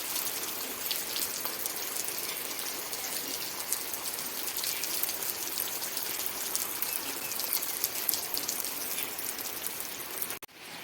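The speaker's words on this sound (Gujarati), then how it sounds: "વરસાદનું ચાલુ થઈ ગયો ચાલુ" Rain falls steadily in a rural outdoor setting, a dense, continuous hiss of drops that stays even throughout, with no talking.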